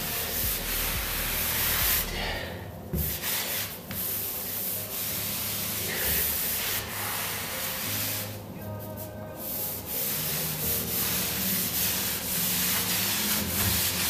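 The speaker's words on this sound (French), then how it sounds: "Là c'est un dernier coup d'éponge pour essayer de bien ramasser" A sponge rubbed firmly over grout on a travertine opus tile floor, long steady scrubbing strokes with brief pauses, close and moderately loud, no talking.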